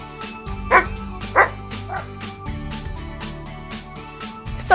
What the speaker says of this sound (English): a dog has wandered into the museum